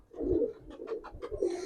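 Pigeons at a loft keeping young birds coo repeatedly in low, throaty pulses, close by and fairly loud, with no talking.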